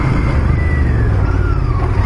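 Royal Enfield Continental GT 650 motorcycle with ABS braking hard on both brakes: a steady, close engine and road rumble with a faint whine that slides downward as the bike slows over about two seconds.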